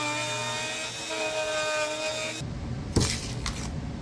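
A router with a small template bit cuts into a live-edge wooden desktop, giving a steady whining, grinding drone that shifts to a rougher, scraping cut partway through, with a brief knock near the end.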